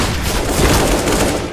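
Gunfire in CS:GO as a wallbang shot punches through a wall, a dense loud burst of overlapping cracks filling the whole moment without a break.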